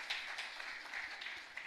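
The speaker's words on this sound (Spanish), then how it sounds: "Un fuerte aplauso para este trabajo maravilloso" A church congregation claps steadily through a chapel Mass during a novena, the faint, even applause sustained without a break.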